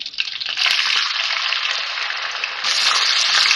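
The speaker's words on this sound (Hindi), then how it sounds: "अब इसमें ये प्याज डाल रही हूँ" Chopped onions sizzling in hot oil in a pan for an achari aloo curry, a steady loud hiss with soft scraping stirs, swelling brighter toward the end.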